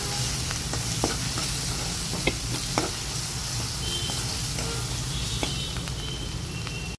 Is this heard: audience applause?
no